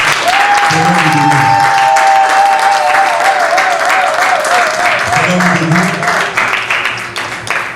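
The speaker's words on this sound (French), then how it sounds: "Acclamons le Seigneur très fort." A church congregation at a 2019 service in Ottawa claps and cheers loudly for the Lord, dense sustained applause with shouting voices and a long sung or cried vocal line running over it, easing slightly toward the end.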